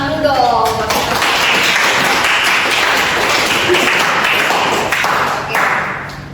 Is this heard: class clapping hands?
yes